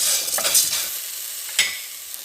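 Carrots and onion sautéing in a pan make a soft sizzle broken by a few scraping stirs, one sharper scrape near the end, with no voices.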